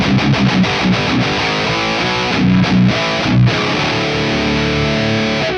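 Heavily distorted electric guitar riffing through an amp, thick and loud with chugging chords and sustained notes, no voices.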